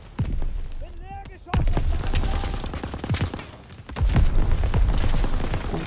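Ammo boxes blow up under gunfire in Call of Duty WWII, heavy booms and rattling shots surging in loud waves with battlefield clamour, while voices shout over the din.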